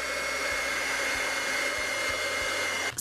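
Heat tool blowing steadily to melt Ranger black embossing powder, a continuous close hair-dryer-like whoosh and motor hum that runs unbroken for about three seconds before cutting off.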